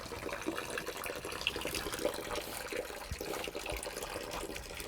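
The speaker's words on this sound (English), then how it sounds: "The beauty of a natural spring." Cold water flows from a natural spring at Monk's Lagoon, a soft, steady, continuous trickle and rush, fairly quiet and unbroken, with no voices.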